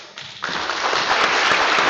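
Audience at a graduation ceremony breaking into applause, quiet at first and then swelling into dense, steady clapping that fills the hall.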